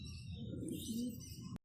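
Pigeons in a loft give soft, low coos, a brief murmuring call close by under a faint background hum, then a sudden cut to silence.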